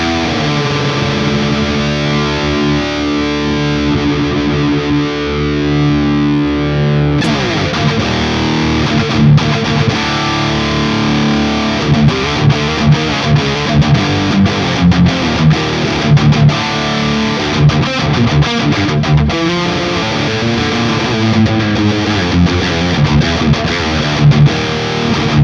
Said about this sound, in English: I'm actually pretty curious how good it sounds with some really low tuned guitar.